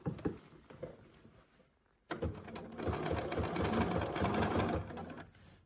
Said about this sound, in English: sew over my wire. And on this part, I'm sewing over 2 layers of wire.